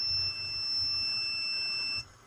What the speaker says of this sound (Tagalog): Ayan, nag-buzzer na siya. Narinig nyo guys, yung buzzer niya.